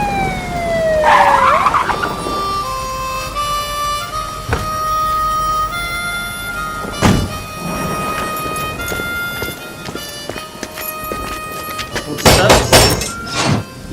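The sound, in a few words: police siren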